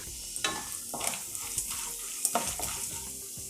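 Mustard seeds sputter and crackle in hot oil with urad dal and cashews, sharp irregular pops over a soft continuous sizzle, close by.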